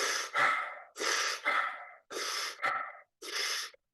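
A deep cleansing breath in a mindfulness exercise, heard as a series of strong, close breaths: four main sharp inhale-exhale bursts with short gaps, rhythmic and alone without speech.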